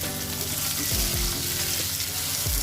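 Basmati rice tossed into a pan and frying with the other ingredients, a loud dense sizzle that stays steady and close throughout, with faint metallic knocks beneath.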